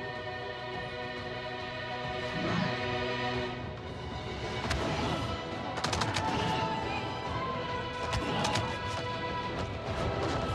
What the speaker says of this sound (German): Also ich habe nur die Schüsse gesehen.